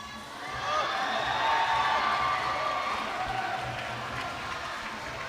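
Spectators cheering and applauding for a lead climber pushing toward the top at the IFSC Climbing World Cup semi-finals in Atlanta, a broad sustained crowd roar that swells and holds, with a voice faintly under it.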